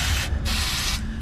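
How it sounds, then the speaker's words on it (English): Aerosol spray hissing onto rust near the CV axle boots and lower ball joint of a 2022 Ford F-150 3.5 EcoBoost, a loud close continuous hiss in two bursts with a brief gap between them. "Spray it on rust near the boots, CV axles, lower ball joint."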